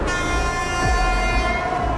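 Train rolling past on the tracks, a loud, sustained rumbling drone with steady tonal hum and no breaks.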